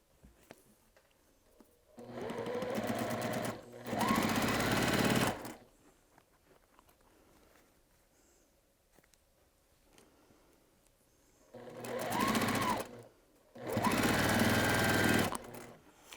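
Sewing machine stitching quilt pieces, four loud mechanical whirring runs of a few seconds each in two pairs, separated by quiet pauses with faint handling.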